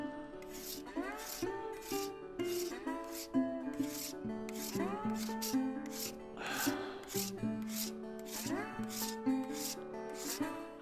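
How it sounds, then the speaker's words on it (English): Stone being shaped with a finer rasp while carving an oloid, a steady run of rhythmic rasping strokes, close and fairly loud, repeating about once every half second to second with no talk. "So maybe this is a good time to go to a finer edge, a finer rasp."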